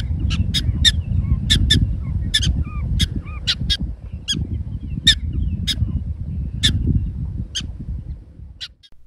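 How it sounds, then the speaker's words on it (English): Prairie dogs at a Texas state park campground give sharp, repeated high chirps and squeaks, a scattered series of short calls over a constant low rumble of wind or background noise. "the chirps and squeaks of prairie dogs can be heard from your"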